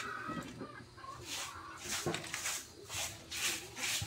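A chicken clucks several times nearby, short throaty calls over faint outdoor background noise.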